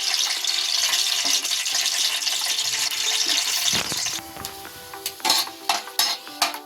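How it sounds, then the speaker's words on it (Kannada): Peanuts fry in hot oil in a pan, giving a dense, even sizzle for several seconds that then thins out, followed by intermittent scraping and clattering stirs. "ಮೊದಲಿಗೆ ನಾನಿಲ್ಲಿ ಕಡಲೆಕಾಯಿ ಬೀಜನ ಸ್ವಲ್ಪ ಫ್ರೈ ಮಾಡ್ಕೊಳ್ತಾ ಇದ್ದೀನಿ"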